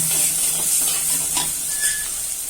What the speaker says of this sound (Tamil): நல்லா கலரி விடுங்க